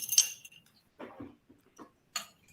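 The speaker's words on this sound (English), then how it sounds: "Recharge my glass if I may." Quiet, sparse glass clinks and taps come from a drinking glass being refilled with water in a hearing room, a few separate knocks spaced apart with no speech.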